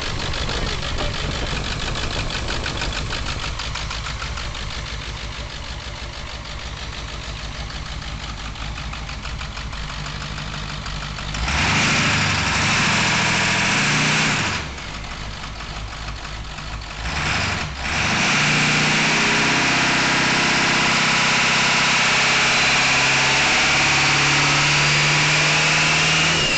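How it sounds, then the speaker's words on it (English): A triple-turbo 7.3 Power Stroke diesel idles steadily on first start with a rough, ticking exhaust leak note, briefly interrupted twice before the rumble resumes, close and loud throughout. "Exhaust leak."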